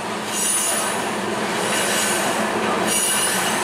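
A westbound train rolls past close by, with a loud continuous rumble and high-pitched squealing wheels. No voices.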